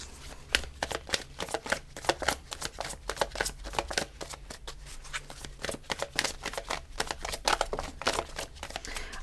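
An oracle card deck is shuffled by hand for a reading, giving a steady run of soft, close riffling and flicking snaps with no talk.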